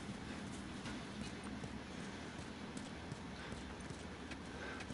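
Horse hooves clip-clop in The Last of Us at a steady walking rhythm, soft and fairly close, over a faint game ambience with no clear speech.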